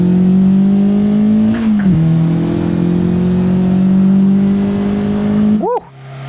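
A street-legal race car's engine revs hard under acceleration, a loud, sustained near roar with a gear-change dip, before the sound cuts out abruptly.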